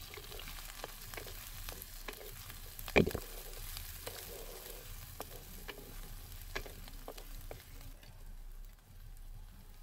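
Chopped onion, ginger, garlic and green chili frying in oil, a faint steady sizzle with scattered ticks and one sharp clatter near the start, fading quieter toward the end.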